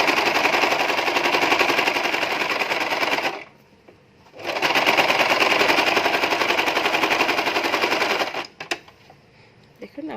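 Sewing machine stitching the seam of a princess cut nighty, a loud rapid mechanical chatter running in two long bursts separated by a short pause, then stopping with a few scattered clicks.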